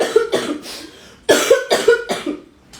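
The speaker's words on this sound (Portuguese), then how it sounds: "peraí que eu vou tossir" A series of loud, harsh coughs in two bursts, about six in all, close up with a short pause between groups.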